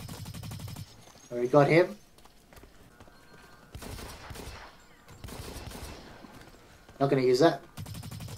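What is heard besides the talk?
pistol gunfire in the video game Blacklight Retribution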